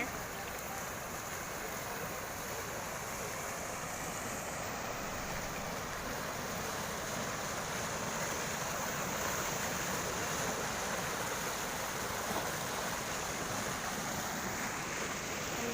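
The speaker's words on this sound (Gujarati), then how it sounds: "અહીંયા મસ્તીનું પાણી જાય છે પુલ ઉપરથી" Floodwater rushes over a bridge on an outing in Gujarat, a steady, loud, broadband roar of flowing water that continues unbroken throughout, mixed with wind buffeting.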